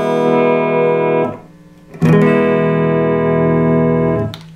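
Electric guitar played through an amp with no reverb, sustained distorted chords ringing loud and dry, cut off abruptly between strums with a pick attack restarting the next held chord.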